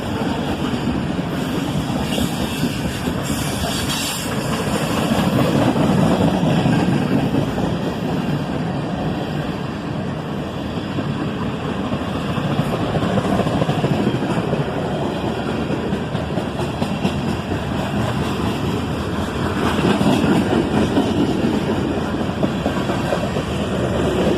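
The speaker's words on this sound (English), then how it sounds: "And here we see the train moving over onto the siding track." A long freight train with a cut of refrigerator cars and a DPU locomotive eases over onto a siding track, a continuous rolling rumble and light clickety-clack that swells and fades over about twenty seconds.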